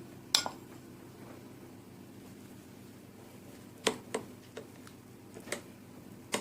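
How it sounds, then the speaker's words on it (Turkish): A spoon folds chopped walnuts into a thick tahini cake batter, making a few sparse, light clinks and taps against the bowl over a quiet background, close by and with no voices. "Şimdi hemen kek hamurumun içine bunları güzelce boca ediyorum. Ve kaşıkla karıştırıyorum."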